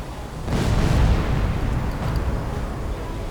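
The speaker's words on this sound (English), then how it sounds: "Huge explosion all the way through the ship." Huge explosion tearing through a ship in the submarine game Silent Hunter 4, a loud deep rumbling blast that swells and then rolls on as sustained booming noise.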